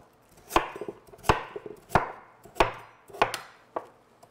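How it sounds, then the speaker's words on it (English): A knife rough-chops a sweet onion on a cutting board in six or seven sharp, evenly spaced chops, each followed by lighter knocks, close and clear with no talking. "I'm going to rough chop that."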